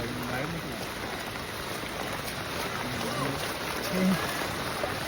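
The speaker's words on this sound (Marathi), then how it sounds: "हा बघा किती पाणी, रोडवरती पाणी आलंय" Floodwater pours steadily across a village road in Konkan during torrential monsoon rain, a continuous broadband rush of flowing water with a brief low thump partway through.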